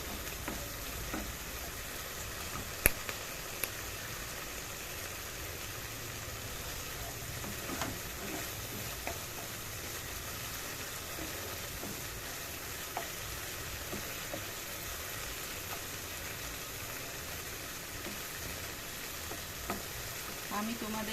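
Poppy seeds fry in a pan with a faint, steady sizzle, broken by occasional light clicks and scrapes of stirring, quiet and continuous throughout.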